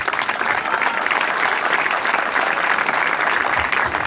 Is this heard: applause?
yes